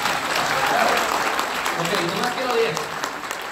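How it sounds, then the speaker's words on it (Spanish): An audience claps in a dense, sustained burst that tapers off toward the end, with a voice speaking over the applause. "¿No aplauden con fuerza a mi familia?"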